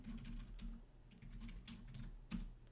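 Fast, steady clacking of keys on a computer keyboard while entering network configuration commands, close and clear, with irregular bursts of keystrokes and no talking.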